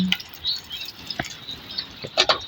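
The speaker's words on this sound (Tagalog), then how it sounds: "Maghapon na naman yung ulan." Rain dripping during a day of steady rain, a handful of soft, scattered drips landing close by at irregular intervals, quiet and with no one speaking.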